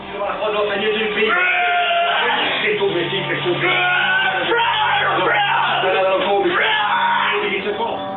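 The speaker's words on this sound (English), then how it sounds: "She screamed, growled, grunted, spit, convulsed, and foamed at the mouth." A 19-year-old woman screams, growls and grunts continuously during an exorcism in Gers, France, her loud, strained voice shifting between harsh yells and guttural bellows with no pause.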